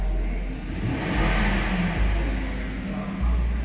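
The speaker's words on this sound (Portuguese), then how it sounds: "Esse daqui é o barulho do carro." A 2011 Hyundai Azera V6 engine revs close by, a deep low rumble that rises and falls in a few surges, with no talk over it.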